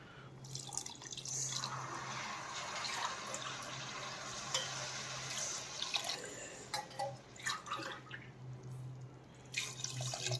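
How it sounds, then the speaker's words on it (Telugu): Water runs into a pot of village-style country chicken dum biryani, a faint but steady pouring and filling sound broken by a few splashes and drips toward the end. "ఇప్పుడు వాటర్ యాడ్ చేద్దాం."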